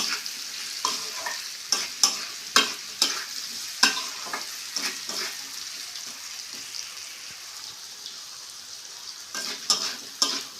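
Pumpkin pieces sizzle in a pan with a soft, even hiss, broken by repeated clattering scrapes of a spatula stirring them.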